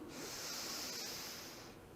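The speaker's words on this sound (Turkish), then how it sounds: "Derin bir nefes aldım." A deep breath is drawn in during yoga bandha practice, a soft, airy hiss heard close and faint that lasts about two seconds and fades slightly at the end.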